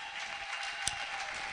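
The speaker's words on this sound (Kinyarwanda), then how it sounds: "Twongere Imana amashyi menshi." Audience clapping at a ceremony, a steady wash of many hands at moderate distance with one sharp close clap standing out briefly.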